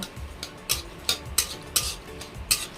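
Bay leaf and dried chilli stirred in hot mustard oil, the start of a jackfruit and beef curry, with a rhythmic series of quick metal scrapes and clinks about every third of a second over a faint sizzle.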